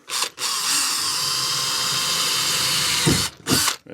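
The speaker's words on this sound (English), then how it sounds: "Let's just drill our hole." A power drill bores a hole in the flooring of a VW Caddy micro camper van, running as one loud, steady whine for about three seconds, then stopping and giving two brief bursts at close range.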